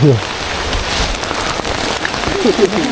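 Heavy rain falling steadily on a mountain trail during a storm, a dense, loud hiss throughout, with brief faint voices at the start and end.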